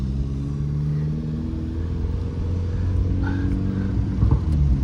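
A 2013 Fiat 500 Abarth's engine runs close by with a steady, loud rumbling drone. Its pitch shifts slightly, and no other sounds stand out.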